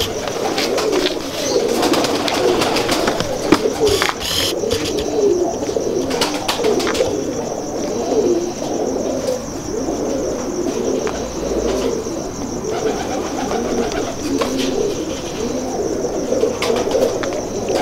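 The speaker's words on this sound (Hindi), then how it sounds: "ये भी फिरोजपुरी कबूतर दिखा रहा हूँ मैं आपको।" Ferozpuri pigeons coo steadily, layered soft throaty calls that run throughout at moderate loudness, with a few faint wing flutters and chirps mixed in.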